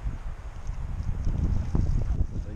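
Wind blows across the microphone outdoors during a long-distance traverse in the south of France, a steady, fairly quiet low rumble with no voices.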